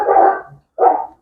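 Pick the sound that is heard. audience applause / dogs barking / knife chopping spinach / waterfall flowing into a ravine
dogs barking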